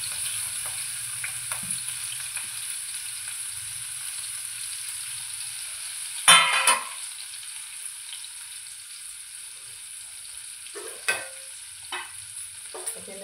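Onion, chili, mustard seeds and cumin with asafoetida frying in a pan for a cabbage dish: a soft continuous sizzle with light stirring scrapes, then a sharper burst of sizzling midway and a few smaller spatters afterward.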